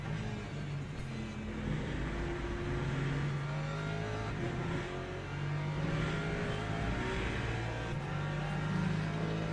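A Le Mans Ultimate hypercar roars around the Circuit of the Americas in a six-hour race, steady engine drone with shifting pitch as cars pass, loud and continuous with no talk.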